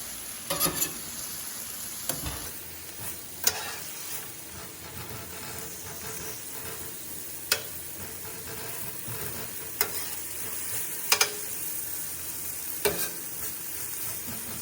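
Stir-fry noodles sizzling in a hot pan on a stovetop burner, a steady hissing fry broken by occasional sharp clacks of the utensil against the pan as they are stirred and spread out, with no talking.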